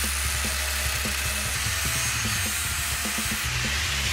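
Power tool cutting a rear sway bar link clamped in a vise for a Jeep JK Wrangler, giving a loud, close, continuous whirring buzz with rhythmic grinding pulses and no speech.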